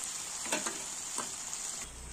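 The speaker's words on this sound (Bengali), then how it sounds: "পেঁয়াজ বাটাটা কিন্তু লো ফ্লেমে ভাজতে হবে" Onion paste frying gently over a low flame for a curd prawn curry, giving a steady soft sizzle with a few faint stirring scrapes, close and alone, before the sizzle drops away near the end.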